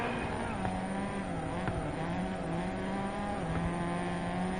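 A Subaru Impreza rally car in DiRT Rally 2.0 roars past with a continuous engine drone whose pitch rises and dips through gear changes, moderately loud and steady throughout.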